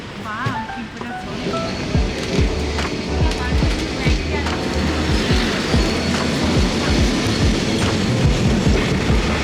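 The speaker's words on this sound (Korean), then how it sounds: "지금 28번 트램을 기다리고 있어요" A Lisbon tram on route 28 rumbles and clatters past over rails, wheels clicking rhythmically with occasional squeals, loud and close amid street noise and faint voices.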